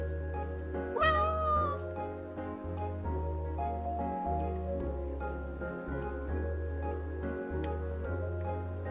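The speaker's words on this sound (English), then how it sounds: "Oh! New kitty." Cat villager meowing in the Animal Crossing video game, a single bright rising meow early on over steady looping game music, then music continues alone.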